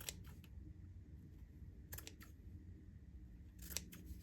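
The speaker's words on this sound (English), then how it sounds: "I got to take my scissors and go in and then just do more cutting" A few crisp snips of scissors cutting fabric, in small clusters with quiet pauses between, close up against a faint room hiss.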